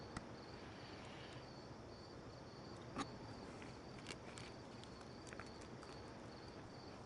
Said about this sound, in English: they're actually playing the crickets because of the time of day